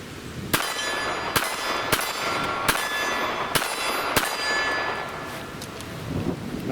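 A Ruger LCP II pocket pistol loaded with Fiocchi round nose ammunition fires six sharp, ringing shots at a steady pace, each crack loud and close with a brief metallic ring.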